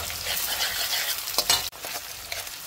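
Chopped onion and garlic fry in a hot pan, a continuous loud sizzle broken by scraping stirs, with a sharp clink and brief dip near the end.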